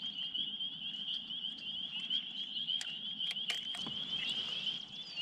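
Spring peeper frogs call continuously from a marsh at night, a dense, steady chorus of high, shrill peeps with a few louder individual calls standing out near the end, and no other sounds.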